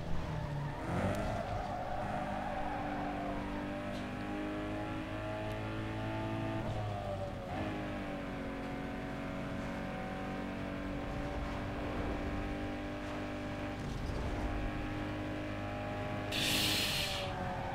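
Peugeot car power-sliding in the racing game Need for Speed Underground 2, a sustained engine drone with shifting revs, tire squeal and skidding, and a burst of hiss near the end.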